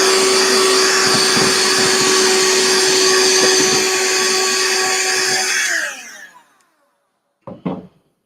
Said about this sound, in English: Black & Decker dustbuster.